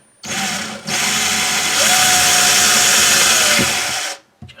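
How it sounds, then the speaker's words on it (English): A power drill bores a small pilot hole into a kitchen cabinet, whining steadily and close for about four seconds before stopping. "we're just going to make a small pilot hole so that the bigger drill bit doesn't move when we try to drill it"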